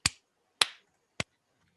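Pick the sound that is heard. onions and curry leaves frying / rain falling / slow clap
slow clap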